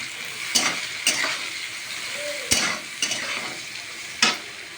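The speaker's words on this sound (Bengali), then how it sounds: "ভেজানো কিশমিশ ঘিয়ের মধ্যে দিয়ে দিলাম। এটাকে ভালো করে একটু নাড়াচাড়া করে নিচ্ছি।" Carrots and soaked raisins are stirred in ghee in a pan over a soft, steady sizzle, with a spoon scraping and clinking against the pan in several sharp, separate strokes.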